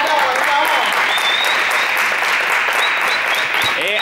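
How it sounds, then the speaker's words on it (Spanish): A live crowd applauds loudly and steadily throughout, dense continuous clapping with cheering mixed in and voices calling out over it. "¡Un aplauso!"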